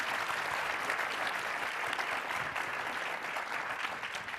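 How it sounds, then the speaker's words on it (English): An audience at a Midwestern leaders' panel session applauds steadily in a room, dense even clapping held throughout at moderate distance, with no talk. "can we get a round of applause for this panel?"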